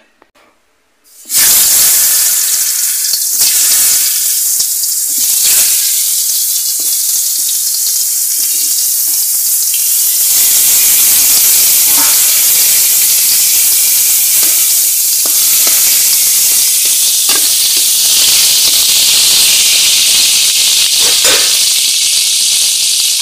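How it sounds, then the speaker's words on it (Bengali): Pieces of pointed gourd sizzle loudly in hot oil, a continuous close crackling hiss with occasional stirring, after a brief quiet start. "বন্ধুরা পটল ভাজা শুরু হচ্ছে।"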